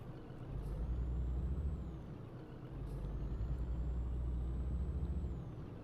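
Truck air brakes hiss in Scania Truck Driving Simulator under a steady low engine rumble, with two brake releases about three seconds apart riding over the droning motor.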